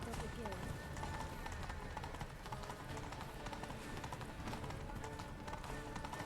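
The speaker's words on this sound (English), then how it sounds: "People are freaking out seeing the queen riding a horse." Horse hooves clip-clop steadily as the queen rides in The Witcher 3 game, a continuous rhythmic patter mixed with game music and ambience, with voices talking over it.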